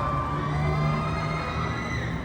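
A distant crowd screams and cheers from a BTS Skytrain platform at a Central Embassy celebrity event in Bangkok, a continuous wash of high voices, faint and blended together without a break.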